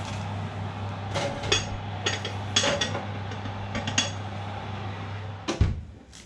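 A roasting tin holding a shoulder of lamb is slid into a hot oven, with repeated metallic clanks and scrapes close by and a heavier knock just before the end, no one speaking.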